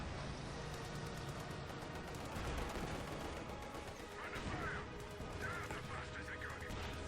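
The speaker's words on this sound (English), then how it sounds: "We're running straight into a Maxim MG" Maxim machine gun fire in the Company of Heroes 2 war strategy video game, dense crackling bursts mixed with other battle noise, continuous and fairly busy throughout.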